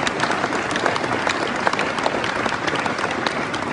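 A packed hall at a municipal campaign rally in Aulnay-sous-Bois breaks into loud, dense applause for the municipal police, a continuous wash of many hands clapping close and steady throughout, with faint crowd murmur underneath.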